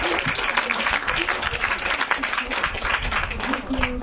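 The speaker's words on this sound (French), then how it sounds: "je crois qu'on peut l'applaudir." An audience at a trade-union talk applauds a unionist from Amazon with sustained, dense clapping, and a voice talks over the applause.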